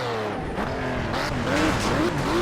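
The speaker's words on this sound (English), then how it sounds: "Gotta use my handbrake a little bit." A race car in the Project Cars racing game skids under the handbrake, its engine whining with a rising and falling tone over a steady roar of tires for a couple of seconds.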